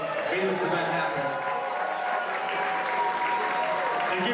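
Steady, dense applause from an audience at a live blues concert at the 2019 Blues Cafe, a continuous wash of clapping from many hands with some crowd noise mixed in.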